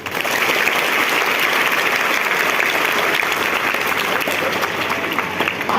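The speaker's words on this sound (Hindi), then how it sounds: "तालियों से स्वागत किया जाए" An audience claps steadily to welcome primary school children after their performance at a school event, a dense sustained round of applause with no pauses or voices on top.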